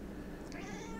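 A cat meows once, a short, fairly soft domestic mew rising over a low, steady room hum, heard close by with no talking.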